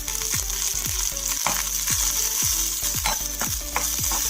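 Cumin seeds and green chillies frying in a pan, a constant close sizzle broken by regular scraping strokes of a spoon stirring them, with no talk.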